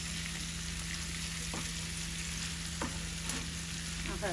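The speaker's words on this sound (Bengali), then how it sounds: "মাছ দেওয়া হয়ে গেছে এখন মাছটা একটু বোনা হইলে" Hilsa fish frying in oil in a pan for a Bengali eggplant and fish curry, a steady close sizzle throughout with a few soft clinks of stirring.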